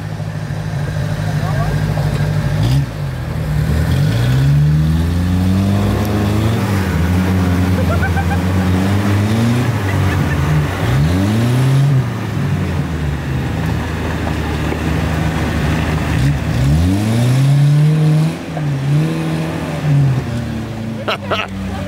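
Car engine revving hard and labouring on a mine trip as the clutch burns, a loud sustained drone that rises and falls in pitch repeatedly, with voices talking over it.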